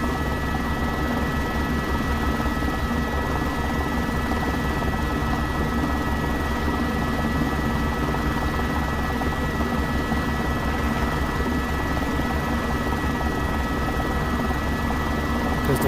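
An H125 helicopter in the X-Plane 12 flight simulator holds a steady, droning rotor and turbine hum, constant and unbroken, with no talk.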